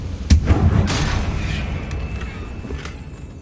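A single sharp, loud explosive blast from the Confringo spell in the video game Hogwarts Legacy, followed by a rumbling, crackling tail and a faint high tone as it fades.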